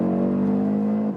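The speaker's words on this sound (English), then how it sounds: "that 5-cylinder really is activated when you are in the higher RPMs" Audi RS Q3 Sportback five-cylinder engine revving hard at high RPM, a loud, steady, close droning howl held for about a second before easing off.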